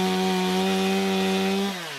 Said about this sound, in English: when I cut it with the chainsaw